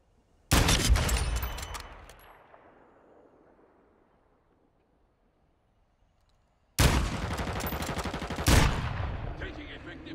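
Loud bursts of automatic gunfire in the Warzone 2.0 battle royale game, one burst fading into quiet before a longer sustained volley of rapid shots.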